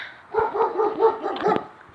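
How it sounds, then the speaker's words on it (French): A dog barks and yips in a quick run of about five or six close, fairly loud barks with no talk over them. "il y a un chien"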